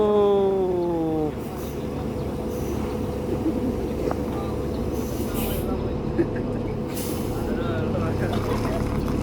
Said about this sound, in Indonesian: Jadi ini adalah bus untuk tujuan Medan, bus pertama yang akan berangkat menuju Medan dari Padang ya.